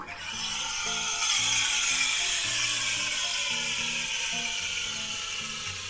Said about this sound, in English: we're going to start off by pressing the cappuccino button to add some air